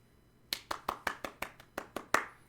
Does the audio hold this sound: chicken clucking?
no